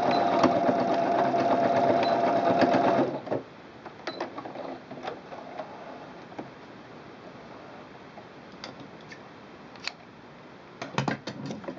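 Sewing machine stitching the seam of a fabric wine bottle gift bag, a steady close whir for about three seconds that stops, followed by faint handling clicks and soft rustles.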